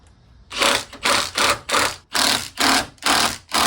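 Power tool torquing bolts while installing Lambo doors on a Nissan 300ZX Z32, heard as eight loud, evenly spaced bursts of whirring tool noise close by, each lasting about a third of a second, with no talking.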